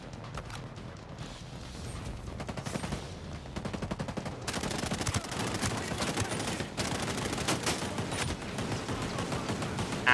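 Sustained SMG bursts in a video game, rapid dense automatic fire that rattles on nearly without pause, loud and close, growing heavier in the second half.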